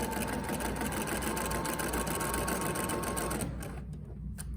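A sewing machine stitching across a 5/8-inch hem, running in a fast, even, continuous clatter before slowing and fading near the end.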